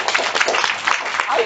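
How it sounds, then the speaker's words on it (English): Applause from an audience at a stress-management talk, with a dense patter of hand claps for a second or so, fairly loud and close, with some talk underneath. "Give her a clap at least."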